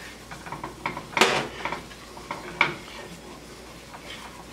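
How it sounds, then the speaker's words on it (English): A spoon scrapes and clinks in a pan while a butter and flour roux is stirred, giving a series of light irregular metallic taps and scrapes, close and moderately soft. "we want to just spread it in there and stir that up, create a little bit of a roux"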